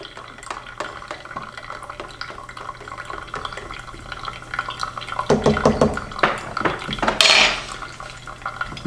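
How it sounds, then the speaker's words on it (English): A spoon breaks the coffee crust of a pour-over brew and stirs it, giving light clinks and scrapes against the vessel with a brief liquid swirl and a sharper clatter near the end. No one speaks. "I'm gonna break the crust and stir this one."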